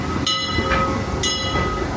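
Disneyland railroad train rolling along with a steady rumble of wheels on track, two bright metallic squeal bursts rising over the running noise, close and continuous with no voices.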